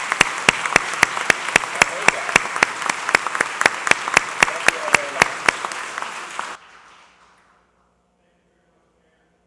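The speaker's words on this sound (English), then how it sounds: "Give a huge round of applause to our partners in the Justice Department." Applause from a crowd honouring Justice Department partners, a dense patter of claps broken by sharp, evenly spaced louder hits, running about six seconds before cutting off to near silence.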